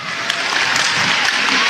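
A crowd applauds at a women's football match as both teams clap for an injured player, producing dense, steady clapping from nearby.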